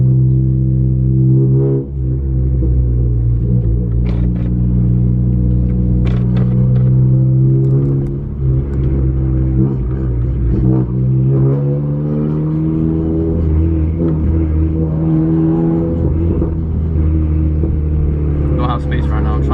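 A 10th-generation Honda on its first drive with a Hondata tune drones and pulls under acceleration, its engine note a steady, loud, close rumble from inside the cabin that rises slightly as the throttle is pressed.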